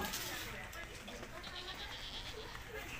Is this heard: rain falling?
no